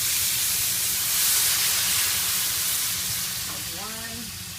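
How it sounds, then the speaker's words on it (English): Steady broadband sizzling and steam hiss as hot water hits a hot pan of shrimp curry over medium heat, loud and continuous, with a faint voice briefly audible near the end. "This is going to really sizzle."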